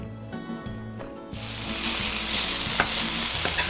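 Chicken breast goes into a hot pan and starts frying, a loud close sizzle that bursts in over background music and then holds steady, with a few light clinks, no talking.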